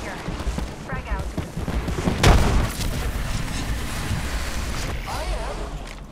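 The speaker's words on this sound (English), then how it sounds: "Frag out." A frag grenade goes off in Apex Legends, a single loud boom with a broad burst near the middle, set inside constant game noise and background chatter.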